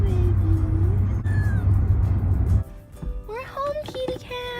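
A kitten meows repeatedly inside a moving car, its cries rising over a steady engine and road rumble that later drops away as the car stops, with brief chirpy mews continuing near the end.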